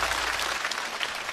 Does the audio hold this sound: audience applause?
yes